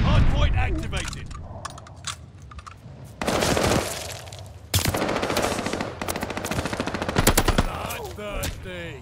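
Heavy machine-gun fire at a contested hard point in a competitive video game match, loud bursts of rapid shots coming in waves over several seconds, with in-game voice callouts between volleys.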